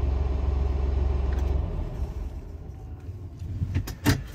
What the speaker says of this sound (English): we're gonna go ahead and turn off the truck while we show you the rest of the truck